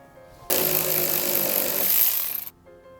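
A power tool whirs loudly for about two seconds while removing a bolt under a Mazda Miata, starting abruptly, running steady, then stuttering briefly before stopping.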